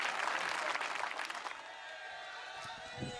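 Audience applause at a Hindi comic poetry gathering (hasya kavi sammelan), a loud burst of clapping for about a second and a half that quickly fades into quieter room ambience.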